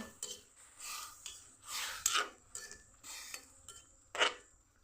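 Raw mango being stirred in a pot of boiling water for homemade jelly, a series of soft scraping and clinking spoon-on-pot strokes in an irregular rhythm, close and quiet.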